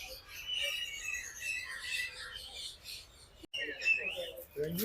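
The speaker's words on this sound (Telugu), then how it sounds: "ఇవైతే రేర్ బర్డ్స్." Birds at Kankaria Lake in Ahmedabad chirp and call repeatedly at a moderate distance, mixed with voices and some outdoor background noise.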